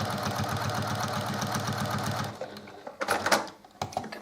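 A sewing machine stitches a row of a split-diagonals quilt block, running in a steady, fast mechanical rhythm for about two seconds before stopping abruptly, followed by a few scattered handling clicks and rustles.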